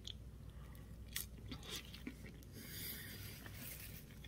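Quiet, close chewing and crunching as toasty elotes with Tostitos chips are eaten with a fork, soft irregular bites with faint clicks over a low room hum.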